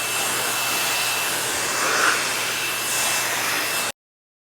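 REDMINUT dog hair dryer blowing a steady, close, broadband rush of air for about four seconds, then cutting off abruptly.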